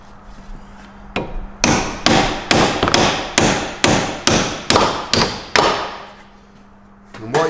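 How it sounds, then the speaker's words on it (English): Hammer blows on a bolt during spring work on a MINI car, about a dozen sharp metallic strikes in a steady rhythm, close and loud, each ringing briefly before the next. "Just give him a tap and see if it'll move."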